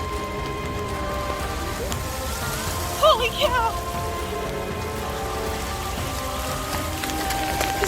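Heavy rain pours steadily onto surfaces at an amusement park, a dense close hiss lasting throughout, while people talk and exclaim briefly over it.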